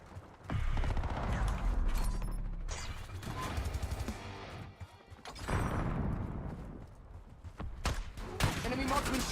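Gunfire from an enemy marksman's sniper rifle in a video game: loud sharp cracks and mechanical clatter over a steady game backdrop, with players talking throughout.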